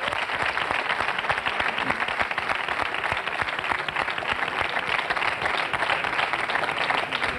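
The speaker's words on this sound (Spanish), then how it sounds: "Se merecen un aplauso los tres" A TV studio audience on a 1999 Spanish evening show breaks into dense, sustained applause, a close, loud, even wash of many hands clapping without a pause.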